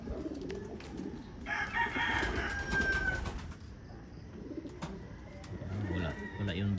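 Racing pigeons cooing near a loft, soft repeated low coos with some chirping in the background, mixed with nearby movement and faint ambient noise.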